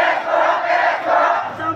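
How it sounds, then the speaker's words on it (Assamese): A large crowd protests loudly in front of the Bokakhat police station in Assam, with many voices shouting together in a continuous, roaring chant. "আজি পুনৰ শশ কার্বি ৰাইজে বোকাখাত আৰক্ষী থানাৰ সন্মুখত সাব্যস্ত কৰে উত্তাল প্ৰতিবাদ"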